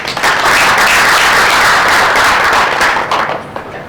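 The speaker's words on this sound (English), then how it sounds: "A big round of applause for her, please." A crowd claps in loud, sustained applause at a book launch event, holding steady for several seconds, then thinning out slightly toward the end.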